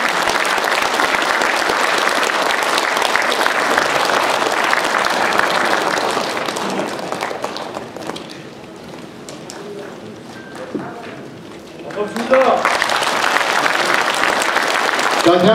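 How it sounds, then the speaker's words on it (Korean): Warm, sustained clapping from guests at a branch founding ceremony during a flag-bearing team's entrance, loud and dense at first, thinning to a lull midway, then swelling again near the end. "다시 한번 뜨거운 격려의 박수를 부탁드립니다"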